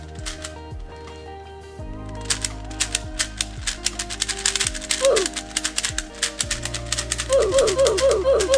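An old V-Cube 6x6 speedcube is turned rapidly, producing a dense run of sharp plastic clicks and clacks in quick irregular bursts, close and fairly loud, with no talking.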